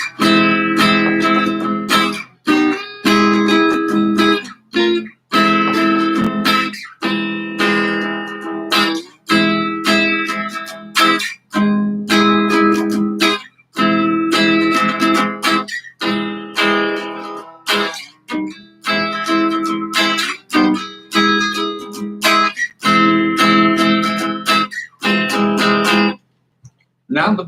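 Guitar rhythm and barre chords played with the pinky added, strummed in short repeated bursts with brief gaps between them, steady and fairly loud with no voice over them.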